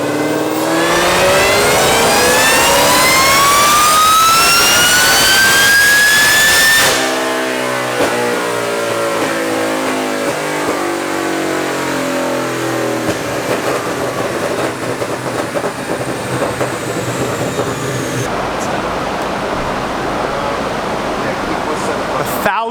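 Whipple-supercharged 2015 Mustang GT on a chassis dyno, engine screaming loud and rising steadily in pitch through a full pull, then abruptly cutting to a lower, rough idle-like drone with a faint whine fading over the remaining seconds.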